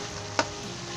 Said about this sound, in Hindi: हम उसे 2 से 3 मिनट के इसे भून लें।